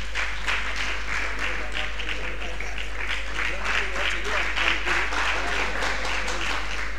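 Audience clapping at a gathering in a hall, a continuous even wash of many hands at moderate volume with a steady low hum underneath and voices faintly mixed in.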